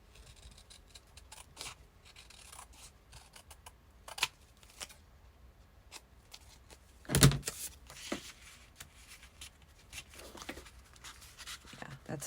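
Scissors snip a craft piece for a pink Christmas project, a few quiet scattered cuts with one sharper louder snip, heard close in a quiet room.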